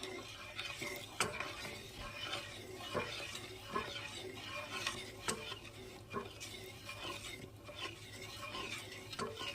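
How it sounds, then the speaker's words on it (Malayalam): A spatula scrapes and clinks steadily through a carrot and tender coconut pudding mixture with milk and sugar in a pan, close and continuous, with regular sharp taps against the metal and a soft simmering hiss underneath. "ഇത് അടിയിൽ പിടിക്കാതെ നമ്മൾ ഇളക്കിക്കൊണ്ടിരിക്കണം."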